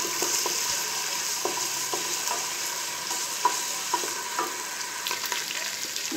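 Garlic and ginger paste sizzles and fries in a hot pan for an arvi curry, a steady close hiss broken by scattered scraping stirs and small pops, with no voices.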